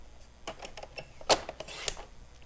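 A paper trimmer slices through a sheet of designer paper for a spring card, giving a short scraping glide with a sharper cut near the middle and a few light clicks and taps around it, close and fairly quiet.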